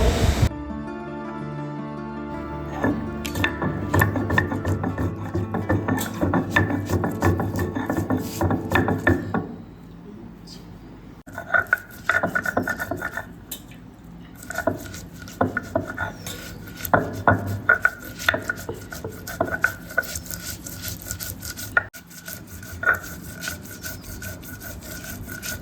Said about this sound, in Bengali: এবার মশলাটা খুব ভালোভাবে বেটে নেবে।